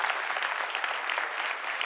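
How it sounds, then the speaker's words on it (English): Dense, steady audience applause at a Chicago design event, many hands clapping evenly at close range with no break through the whole stretch. "So a round of applause for CIW."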